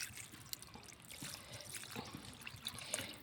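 Water is poured into a pan of country chicken curry, producing a faint, quiet trickle and splash close by with no talk.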